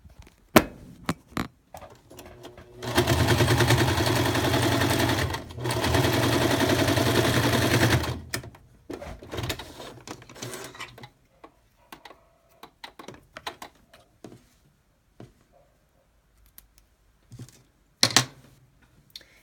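A sewing machine runs a straight line of stitching over elastic onto fabric for baby booties, with two steady sustained bursts of motor whir, separated by a brief pause, then scattered handling clicks.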